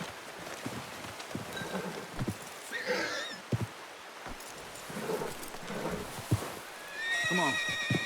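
Horse neighing and clip-clopping hooves in Red Dead Redemption 2 during a deer hunt, with a clear whinny mid-clip and a longer neigh near the end over soft steps and faint rain ambience.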